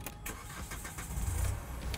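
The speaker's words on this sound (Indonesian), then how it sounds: "Nah, ini mesin dieselnya ini jadi" The diesel engine of a Hyundai H-1 Royale van runs nearby with a low, steady rumble, marked by a few short clicks and knocks and a slight swell in engine noise toward the end.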